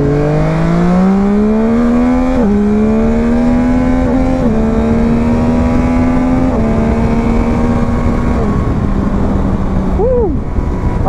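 A Yamaha Tracer 900 GT motorcycle accelerates hard, its engine note rising steadily through several gear changes in a loud, continuous close-up recording with wind noise, then easing off near the end.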